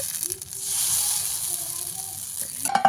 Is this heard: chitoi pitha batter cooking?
yes